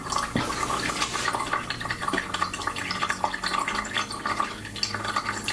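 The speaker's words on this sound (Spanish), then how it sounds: "Vamos a proceder a vaciar el hidrolato." Lemon hydrosol draining from a home essential oil distiller, trickling and splashing steadily into a container with small drips and light clinks throughout, close and moderately quiet.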